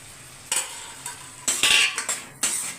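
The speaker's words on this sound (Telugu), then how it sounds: "సిమ్లో హైలో పెట్టుకుంటా ఫ్రై చేయండి." Prawns frying in a pan with green chillies and curry leaves, heard as a few sharp metal scrapes and clinks of stirring over a soft, low sizzle, with no voices.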